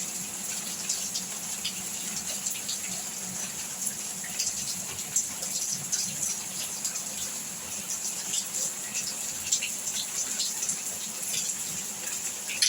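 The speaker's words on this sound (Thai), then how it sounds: "มองดูฝนตก" Steady broadband hiss of morning rain falling continuously, with scattered drip and splash ticks throughout and no talking.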